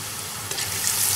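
Masala frying in a pan for chargha biryani sizzles steadily as water is added, the hiss swelling brighter and louder partway through; no talking.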